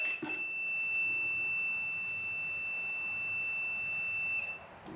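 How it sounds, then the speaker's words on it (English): A steady high-pitched electronic beep from an ignition coil tester on a Douglas D28 motorcycle engine holds continuously for about four seconds over a low background rumble, then cuts off. "The beep means that the primary coil is energized"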